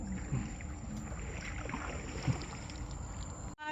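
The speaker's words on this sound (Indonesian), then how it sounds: "Belum, tunggu mesinnya hidup." A boat engine runs steadily nearby on a coastal bay, a continuous low rumbling drone with a faint high whine, cutting off abruptly at the very end.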